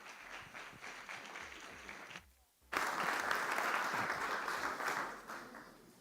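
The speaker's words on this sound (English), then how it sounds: "So can I have a big round of applause for a very lucky man, Mr. Chris Moss." A festival audience at Exeter Castle claps briefly, falls nearly silent, then bursts into a loud, dense, sustained round of applause that slowly tapers.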